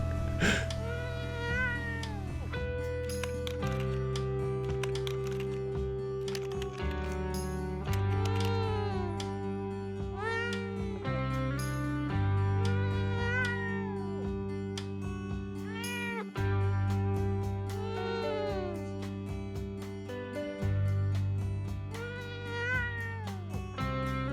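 Repeated, oddly pitched cat meows from the game Leila come one after another for a long stretch, close and insistent, over a continuous low droning music bed.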